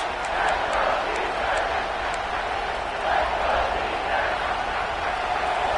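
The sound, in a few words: big stadium crowd cheering at football game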